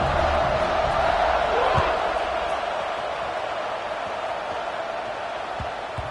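Football stadium crowd buzzing after a score at a Texas Tech versus Syracuse game, a continuous broad roar of many voices at a steady level, fading slightly over the span, with a couple of dull thumps.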